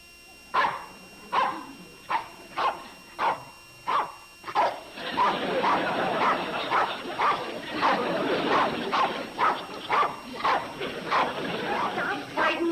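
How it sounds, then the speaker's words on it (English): A dog barks repeatedly in a steady rhythm of sharp, close yaps, first alone, then continuing under a stretch of talk from people nearby. "And if you have to bark, bark silently."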